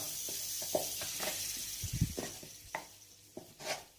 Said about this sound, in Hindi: चम्मच चलाते जाएंगे, चम्मच नहीं आपने छोड़नी और फ्लेम आपने अभी स्लो कर देनी है